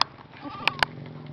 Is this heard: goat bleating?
yes